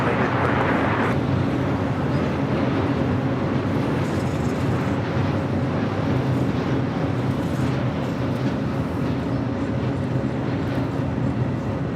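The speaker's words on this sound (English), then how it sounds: "This is Hawaiian Airlines Flight 62 coming in from Kailua, Kona on the A330-200" A Hawaiian Airlines Airbus A330-200 landing at Los Angeles International Airport, a loud, sustained jet engine roar that holds steady for the whole stretch, broad and heavy.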